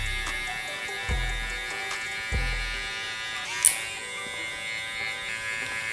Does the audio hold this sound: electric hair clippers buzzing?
yes